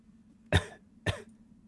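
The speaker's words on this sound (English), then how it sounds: "Why are you coughing?" Two sharp coughs about half a second apart, close and fairly loud, with near silence around them.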